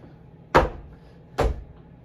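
Two sharp knife-hand chopping strikes land on a conditioning pad, each a close, dull slap, spaced almost a second apart in an otherwise quiet room.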